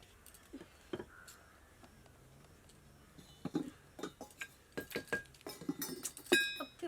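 Dishes clink together while being washed, with scattered sharp metallic and ceramic knocks that grow busier and louder toward the end, fairly close with no talk.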